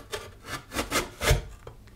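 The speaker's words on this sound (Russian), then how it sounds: "Я натираю на терке морковь." Carrots being grated on a kitchen grater, a series of rough rasping strokes repeating in an uneven rhythm, close and fairly quiet with no talking.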